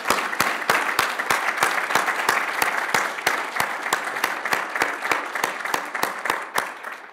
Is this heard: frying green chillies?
no